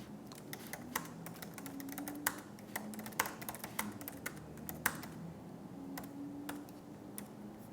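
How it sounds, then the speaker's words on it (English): Quiet, irregular clicking of fingers typing on a computer keyboard, with keystrokes tapping steadily at close range over a faint background hum. "and then typing in here."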